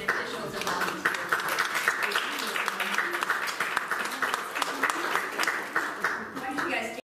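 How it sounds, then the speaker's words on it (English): A room of attendees at a town visioning meeting claps for elected officials and volunteers, a steady, even wash of applause from many hands lasting about seven seconds before stopping abruptly. "we just want to give an applause to all of our elected officials and volunteers"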